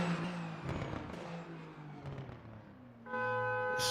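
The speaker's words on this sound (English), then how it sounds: "as we're hearing the horns of the cars" Car horns at the end of a sim racing game round in Bahrain: a blur of engine and crowd noise, then a sustained, tonal horn blast cuts in for the final second.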